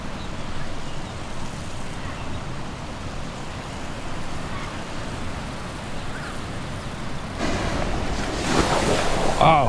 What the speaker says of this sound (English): Oh, the water is coming up.